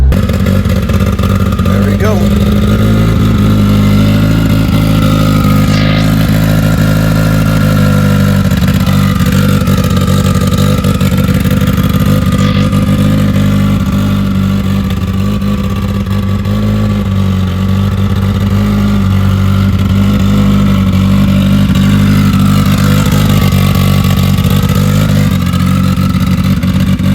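Big-turbo Mitsubishi Evo engine running loud and steady on a dyno, a continuous heavy drone with revving swells across the whole stretch and faint clatter underneath.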